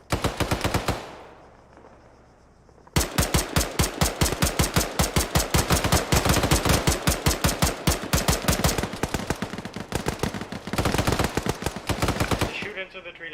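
Sustained bursts of automatic gunfire rake a tree line in the military video game Arma, rapid loud shots in a steady rhythm with a short pause near the start, then continuous firing to the end.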